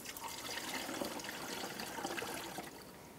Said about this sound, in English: Let's pour the rest of our coolant in here.